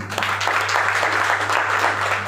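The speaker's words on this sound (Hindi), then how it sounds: "जितेंद्र सर के घर के लिए आप लोग ताली बजा दीजिए" Applause from an audience at a business seminar in India, a steady broadband patter of clapping over a constant low electrical hum, fairly loud and sustained throughout with no speech.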